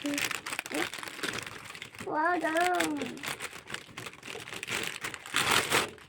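At a boy's birthday celebration at home, wrapping paper crinkles and rustles almost continuously as a gift is opened, close to the listener, while a child and an adult talk over it.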